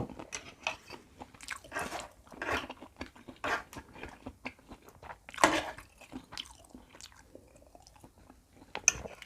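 Close-up crunchy bites and chewing of crispy fried rice vermicelli in gravy (rad na), sharp crackling crunches repeating irregularly between quieter wet chews, with soft speech in between.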